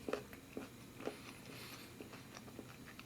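Moist, close chewing on a small maple-flavor pork sausage patty in a breakfast sandwich with cheese spread, with soft irregular bites and crunches repeating over a few seconds, no talking.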